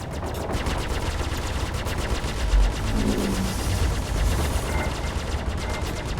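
Rapid ship-mounted gunfire in the space game Star Citizen, a continuous fast pulsing rattle that holds steady for the full stretch over a low rumbling background.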